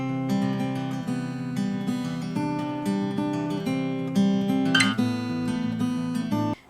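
An acoustic guitar is fingerpicked in a Travis pattern from a song, with a steady alternating bass under ringing treble notes, played alone, close and clear, without any voice.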